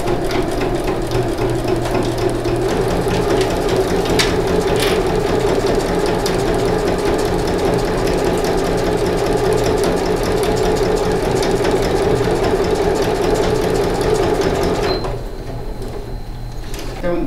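A sewing machine runs steadily, stitching bias binding onto fabric for a small zippered pouch, a continuous mechanical whir lasting about fifteen seconds before slowing and stopping near the end.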